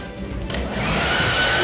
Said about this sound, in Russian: Я могу включить в него фен.